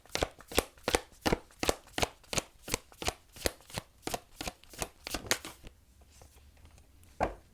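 Jumbo tarot cards are shuffled up close in a quick, steady run of crisp riffling slaps; after a short pause, one last card is drawn with a single snap. No one speaks.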